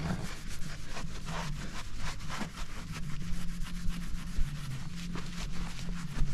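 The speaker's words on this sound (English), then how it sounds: "And then we're just gonna rub it in. Not out. Rub it in." A rag steadily rubs pinstripe paint into a Chevrolet Caprice's body by hand, giving a continuous scratchy rhythmic scrubbing close up, with no talk.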